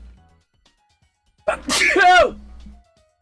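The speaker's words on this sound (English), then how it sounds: "I feel a sneeze coming on" A single loud sneeze bursts out after a quiet pause, with a sharp inhale-like onset and a forceful burst that trails off quickly.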